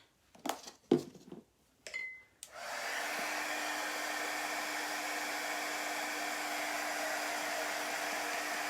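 A heat tool blows hot air to dry chalk paste on a craft project, starting after a few clicks and knocks and then holding a steady, even whoosh for the remaining six seconds.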